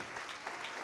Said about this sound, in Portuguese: Vamos aplaudir, igreja, vamos aplaudir.